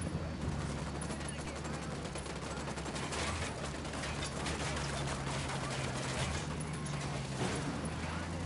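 Sustained gunfire in a PS4 shooter game, a continuous dense rattle of rapid shots at steady loudness under a low droning background.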